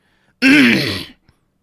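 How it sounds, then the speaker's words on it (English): One loud, gravelly throat clearing from someone nearby, lasting under a second, followed by silence. "I'm clearing my throat"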